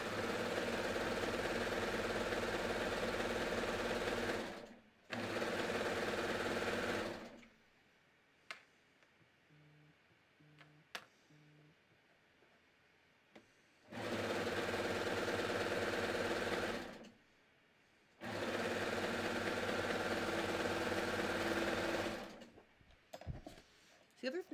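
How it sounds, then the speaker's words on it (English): Sewing machine stitching the underarm seams of a tee shirt, loud steady mechanical whirring in two bursts, a pause with faint clicks and handling noises, then two more long runs of stitching. "I'm going to sew my underarm seams now."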